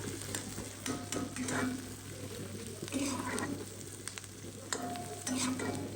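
Beef nihari ingredients sizzle and fry in ghee in a pot for a home recipe, with a steady close hiss, scraping stirs and occasional utensil clinks throughout.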